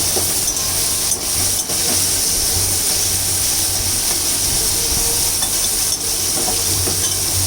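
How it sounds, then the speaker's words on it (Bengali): Prawns with turmeric and salt sizzle loudly in a pan, a constant hiss broken by several sharp scraping stirs of the spatula, no speech. "তাই আমি চিংড়িটাকে একটু ভালো করে ভেজে নিচ্ছি"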